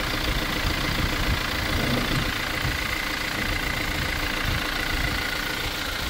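A 2025 Toyota GR Fortuner engine idles steadily after fuel pump and fuel filter replacement, a loud, close, unbroken hum and rumble with no talking.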